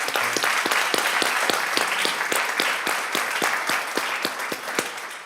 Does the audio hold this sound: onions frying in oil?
no